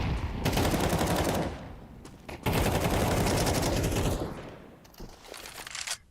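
Dense bursts of rapid Desert Eagle pistol fire in a competitive Counter-Strike match, loud and close, with sustained volleys broken by brief pauses before a final flurry.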